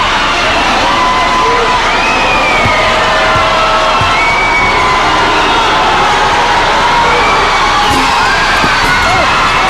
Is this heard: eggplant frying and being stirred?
no